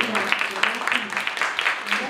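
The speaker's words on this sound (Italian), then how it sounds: "io saluterei con un applauso sentito" Moderate applause from an audience at a book presentation in Naples, a fairly steady patter of clapping hands with voices audible underneath.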